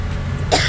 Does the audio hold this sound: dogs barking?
no